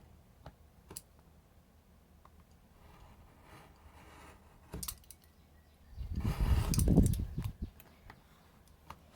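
A single rasping cut through paper or wax sheet for encaustic painting, rising and fading over a second or two after scattered faint clicks and handling taps, close and fairly quiet, without talking.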